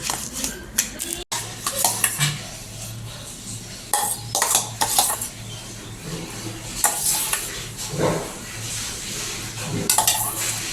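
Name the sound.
serving lemon kulfi into a bowl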